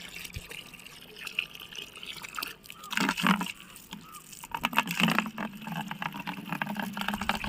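Water splashes and trickles as containers are filled on a rooftop under construction, with uneven pouring bursts and drips, moderately close and fairly quiet.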